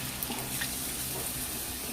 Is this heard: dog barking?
no